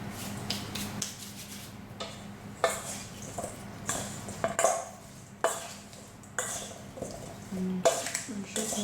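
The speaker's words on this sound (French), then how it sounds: "je continue de mélanger pour bien incorporer le sel partout" Spoon scraping and clinking against a bowl while salt is stirred into peanut-coated chicken nuggets, irregular knocks and scrapes at close range with a low background hum.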